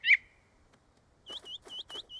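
A short, shrill whistle blast sounds in an animated children's Peter Rabbit scene. After a quiet pause, a string of quick bird-like chirps answers it.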